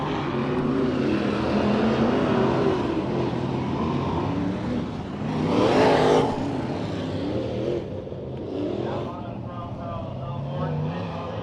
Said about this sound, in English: IMCA modifieds are on track